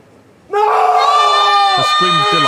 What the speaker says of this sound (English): Her scream of delight was confirmation.